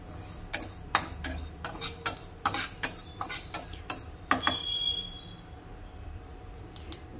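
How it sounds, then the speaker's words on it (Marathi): Dry spices and coconut being roasted in a wok for a village-style chicken curry, stirred with a spatula in a regular series of close metallic scrapes and taps that stop near the end, leaving a quiet background. "पहिल्यांदा वाळला मसाला आपण कढईमध्ये गरम करून घेऊया."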